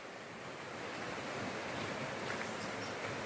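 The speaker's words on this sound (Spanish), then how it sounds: "y el sonido del agua donde cae la cascada." Water falling at the Copalita waterfalls in San Miguel del Puerto, Oaxaca: a steady, faint, broadband rush that holds constant throughout, with no voices.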